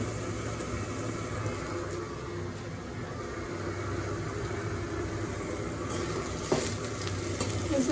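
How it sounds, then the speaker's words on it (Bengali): Red lentils fry with turmeric powder in a pan in a village kitchen, giving a steady, close sizzle with soft stirring scrapes throughout and a brief clack near the end. "হলুদের গুঁড়া দিয়ে এখন মসুরের ডাল আবার একটু ভাজবো"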